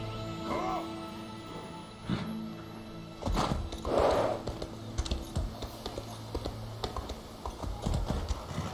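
Horse hooves clip-clop in a steady trotting rhythm in The Elder Scrolls Online, moderately close, with occasional louder game effects and thuds mixed in.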